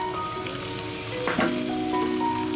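Carrots, capsicum and potato fry together in a pan, giving a steady sizzle with a brief louder burst of hiss and clatter midway, close and without talk.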